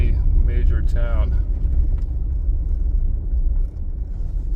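Steady low engine rumble heard from inside a car being driven with its transmission warning light on, continuous throughout, with someone speaking briefly over it near the start.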